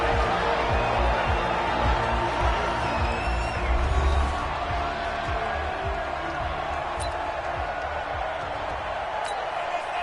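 A stadium crowd roars at a Broncos vs Steelers divisional round football game, a dense, loud, sustained wash of noise that eases slightly after a few seconds.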